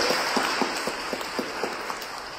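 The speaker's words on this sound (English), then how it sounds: "Round of applause, please." A congregation at a Sunday church service claps for a birthday, a soft, even wash of applause with light, regular patter, heard from some distance and without any talking.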